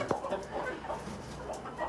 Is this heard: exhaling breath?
no